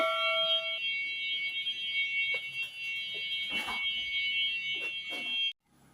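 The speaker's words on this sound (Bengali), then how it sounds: "অ্যালার্মটির আওয়াজ কম হওয়ার কারণ হচ্ছিল অ্যালার্মটি কিন্তু ঘরের ভেতরে" An anti-theft alarm for cattle sounds indoors, a steady high electronic tone that holds loud and unbroken for several seconds and then cuts off abruptly.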